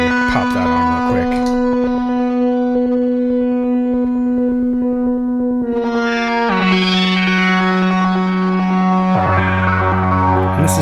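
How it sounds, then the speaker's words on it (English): Sustained synthetic instrument tones washed in heavy reverb and layered repeats, shifting pitch in distinct steps, dense and continuous with no voices. "this is just kind of a weird reverb that I have, looper."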